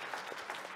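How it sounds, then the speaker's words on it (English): Brief applause from a congregation after a piano recital held in a church setting, a steady wash of clapping at moderate distance, fairly quiet and lasting under a second. "give them a round of applause if you don't mind."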